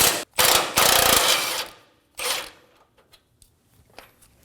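A ratchet fitted with a 21mm socket loosens an oil pan bolt on a 2017-2024 Nissan Armada, giving several loud, close bursts of rapid clicking, then a few quieter isolated clicks and taps.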